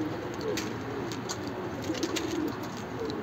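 Pigeons coo in a loft, repeated low rolling calls close by over a steady background hum, with no talking.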